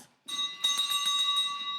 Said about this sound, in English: all that the children could hear were the ringing of the bells